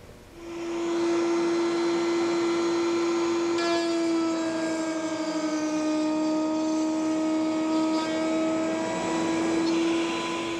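Power tool cutting a half inch dado into wood, a loud, steady whining drone that holds for about ten seconds with a slight pitch drift and no talk over it.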